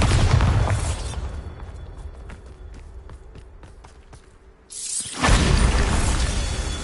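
A Bombarda blasting spell explodes in the Hogwarts Legacy video game, a loud sudden burst near the five-second mark rising over a quieter stretch of game sounds and scattered clicks, then sustaining a heavy rumbling roar.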